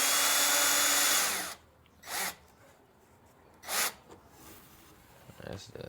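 Cordless power drill driving a screw into a greenhouse frame, one loud sustained whir that cuts off abruptly, followed by two short bursts of the motor, each standing alone and close.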